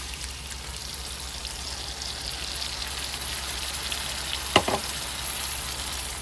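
Cream of mushroom soup goes into melted butter in a pan, making a steady, fairly loud sizzle throughout, with a brief clunk near the end. No one speaks.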